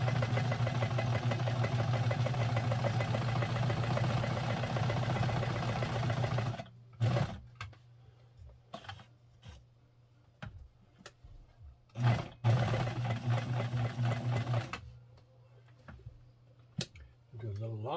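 A Penncrest 3400 sewing machine stitches fabric with a close, steady whirring hum that later breaks into short bursts and pauses before running steadily again. A voice talks over parts of it.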